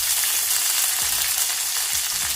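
Chopped medium onion frying in a pan with oil, a steady close sizzle broken by a few soft stirring knocks, with no voices.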